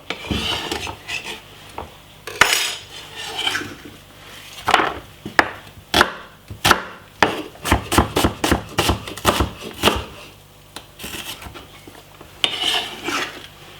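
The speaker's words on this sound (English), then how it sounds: "Right here I have a medium-sized white onion. And I'm gonna cut it up very small." A medium white onion being diced very small with a knife on a board, giving bursts of quick, close chopping taps that build into a fast run of sharp cuts, with softer scraping and handling between them.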